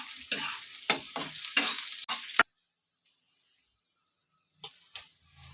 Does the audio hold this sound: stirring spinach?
yes